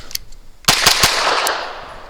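Grand Power SP9 A3 Stribog firing Gecko 115 grain ammunition, a quick string of about four loud close shots followed by a ringing outdoor decay.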